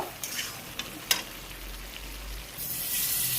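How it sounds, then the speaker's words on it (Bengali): Water poured into a hot pan of chicken and bottle gourd that has been frying in spiced oil gives a close sizzle with a few sharp crackles, then rises into a louder, sustained hiss toward the end. "দেখো এখন আমি জল দিয়ে দিব"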